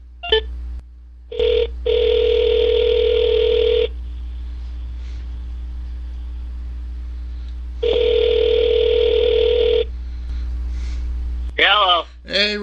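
A telephone line on a call-in show: long steady ringback tones repeat with a low mains hum underneath, then a burst of quick dialing beeps near the end; no voices.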